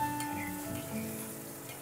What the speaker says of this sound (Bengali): ডিমটা আমি হালকা করে ভেজে নেব, আপনারা কড়া করেও ভেজে নিতে পারেন।